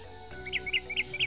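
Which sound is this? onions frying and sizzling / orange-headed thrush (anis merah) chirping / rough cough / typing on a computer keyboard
orange-headed thrush (anis merah) chirping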